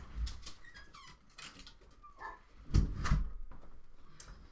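A pet dog indoors gives a few short yips and whimpers, then two louder barks close by, with quieter whining between them and no talk.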